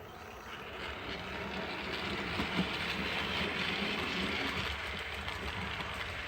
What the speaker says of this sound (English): watch the tank engine pulling out of the station